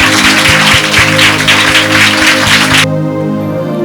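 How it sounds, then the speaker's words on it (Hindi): A church congregation claps loudly together in a dense, even burst of applause that stops abruptly, leaving a quieter tonal background hum. "एक जोरदार ताली उस खुदावन के लिए बजाएंगे।"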